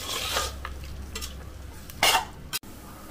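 Mutton mixed with curd (yogurt) is stirred in a pan over low flame for Karnataka-style donne biryani, with a few scraping strokes and a soft sizzle, ending in a sharp metallic clink.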